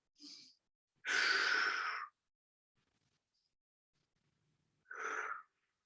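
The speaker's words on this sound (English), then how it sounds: "take 2 deep breaths" A person takes deep breaths while holding a seated stretch, a short faint inhale followed by a longer, louder breath out, then quiet before another audible breath; no talking.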